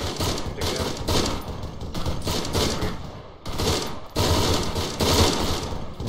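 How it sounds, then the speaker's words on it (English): Sustained heavy machine gun fire in the Arma military game, with dense rapid bursts hammering loudly throughout, broken by one brief lull near the middle before the firing resumes. "Heavy machine gun."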